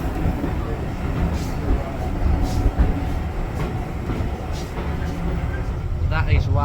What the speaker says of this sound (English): And we're about to go into a tunnel.